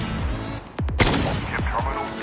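An SKS rifle fires single shots in Call of Duty Mobile, several sharp loud reports spaced unevenly over a couple of seconds, each followed by a short ringing tail.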